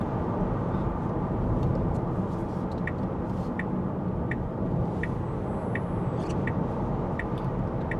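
A Tesla Model Y Juniper dual-motor car accelerates, heard from inside as a steady, dense road and tyre rumble with faint regular ticking above it and no voices.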